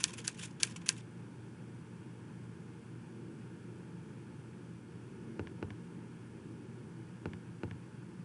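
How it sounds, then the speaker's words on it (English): Typewriter typing in the video game Evil Under the Sun, a few sharp keystrokes clustered at the start, then sparse isolated clacks over a faint, steady hum. "he seems to be typing up quite a storm"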